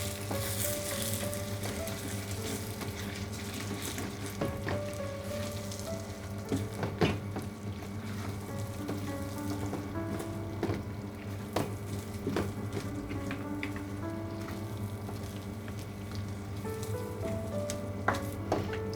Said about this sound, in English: Then I'm going to add 2 tablespoons of yogurt. A nice stir.